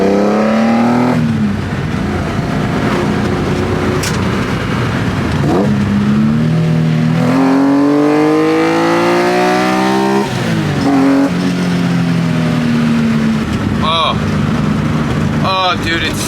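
A BMW E30 with a swapped S54 engine and a 4.10 limited-slip differential pulls away and accelerates hard, its loud engine note climbing through several rising pulls and gear changes, with brief tire noise near the end.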